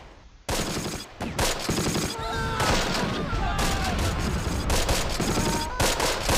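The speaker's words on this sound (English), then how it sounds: "So they just walk slap bang into an artillery barrage." Artillery barrage in the wartime strategy game Close Combat: Last Stand Arnhem, with a sudden onset of loud, overlapping blasts and crackling gunfire rolling on steadily, punctuated by repeated sharp impacts and whistling tones.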